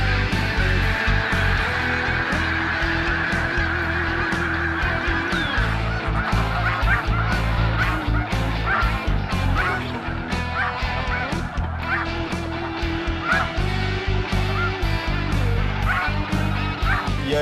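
A large flock of snow geese feeding in a farm field at Montmagny keeps up constant overlapping honks and cackles, loud and near, with no letup.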